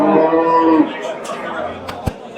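Close by at a busy livestock bazaar, a cow gives one long, loud moo, followed by crowd murmur and a few sharp knocks in the background.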